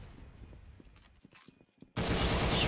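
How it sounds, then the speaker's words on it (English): A Roblox Arsenal shotgun goes off once with a sudden loud blast after a quiet stretch of faint game sounds and footsteps, and the roar continues to the end. "Someone shotguns me from behind"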